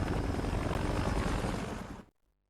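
A helicopter's loud, steady rotor and engine roar fills the scene, then cuts off abruptly into silence.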